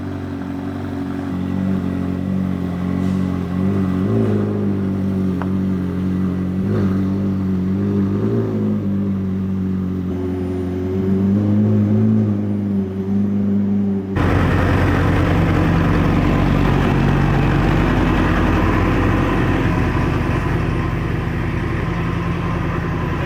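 McLaren supercar engine at a dealership, running with a steady deep rumble that swells in revs, then a louder, rougher burst of roaring revving near the end, close by with no talk.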